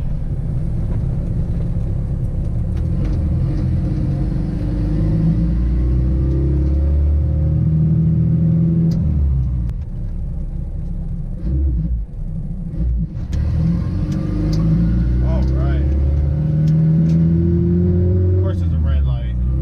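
A turbocharged Honda Integra makes a short acceleration pull, its engine droning loud and close in a low rumble that swells and eases, with a person talking throughout inside the car.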